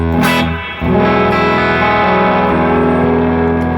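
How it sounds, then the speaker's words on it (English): A distorted electric guitar chord rings out loud through a Two Rock Bloomfield Drive amplifier, its tail washing with the amp's reverb as it sustains and slowly fades. "And you can hear that reverb acting there,"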